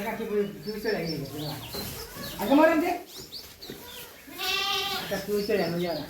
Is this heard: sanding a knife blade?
no